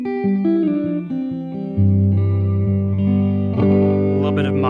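Distorted electric guitar notes, each followed by a quick single echo repeat, a short slapback delay from a pedalboard, with melodic runs and sustained tones.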